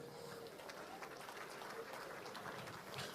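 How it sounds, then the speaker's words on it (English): Banquet guests at a state dinner clapping together, a continuous soft patter of many hands heard from some distance, fairly faint and even throughout. "clap for this state."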